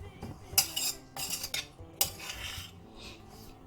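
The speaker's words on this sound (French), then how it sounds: "je vais faire mélanger tout ça" A utensil scraping and clinking against a bowl while attiéké ingredients are mixed, in several short, quiet bursts with brief pauses between them.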